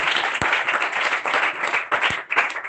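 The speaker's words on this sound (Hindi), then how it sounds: "जोरदार ताली" Steady audience applause, many hands clapping in a dense, continuous wash that holds at a fairly loud level throughout, with no voices.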